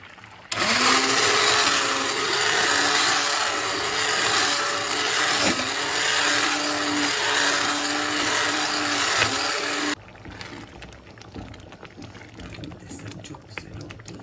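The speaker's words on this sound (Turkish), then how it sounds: "Bir blender geçireceğim içinde." A blender whirs loudly and steadily for about ten seconds blending tomatoes, its motor pitch wavering slightly as it churns, then cuts off into quiet background noise.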